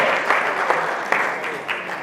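An audience at a live panel event claps for itself in a short, steady burst of moderate applause, with a few sharper individual claps standing out.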